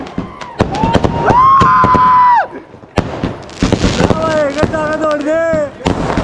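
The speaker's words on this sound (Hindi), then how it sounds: "यो लक्ष्मी बम है" Diwali firecrackers, including a Laxmi bomb, go off in loud, sharp bangs and pops, mixed with whistling rising shells and crackling bursts, some close and some farther away, with people talking amid the noise.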